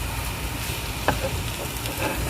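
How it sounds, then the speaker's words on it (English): Onions and garlic sizzle in a pan while making homemade chili, a steady broadband frying hiss that stays even throughout with one brief louder crackle near the middle. "it's time for the onions and the garlic. Here we go. Listen to it. That's simmer."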